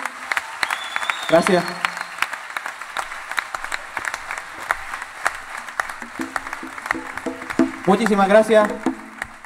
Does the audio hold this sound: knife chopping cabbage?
no